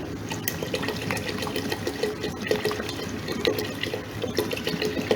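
Water streams steadily into a pot holding a yogurt and gram flour mixture for kadhi pakora, a continuous splashing pour lasting several seconds, with no talking.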